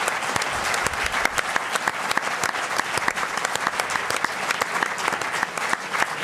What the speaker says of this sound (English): give a big round of applause to Féile and Phobail for hosting this discussion